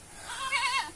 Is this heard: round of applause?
no